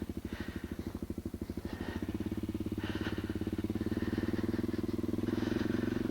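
Honda CRF250L motorcycle riding along a road, its single-cylinder engine close and loud with a steady pulsing thrum that rises in pitch as it accelerates.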